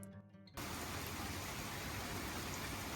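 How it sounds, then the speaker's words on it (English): Heavy rain pours in a steady, dense hiss that starts abruptly after a brief quieter moment and continues unbroken and close, with no voices. "We've been waiting all day for a break in the rain"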